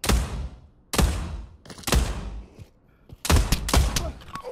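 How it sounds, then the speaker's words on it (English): Gunfire in the VR shooter Pavlov comes as loud, close bursts of rapid shots in several clusters separated by short pauses. "I shot it a bunch, it didn't blow up."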